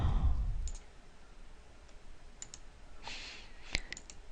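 Several sharp computer mouse clicks come in a quick scattered series, faint and close, with a soft thump near the start and a quiet room otherwise.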